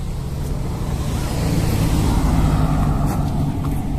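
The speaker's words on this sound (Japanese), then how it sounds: "結構この道ね、車通りますんでね" A car drives along a rural road beside a cosmos field and archaeological site park in Akō, Japan, heard as a steady broadband road rumble that swells slightly as it passes, with no talking.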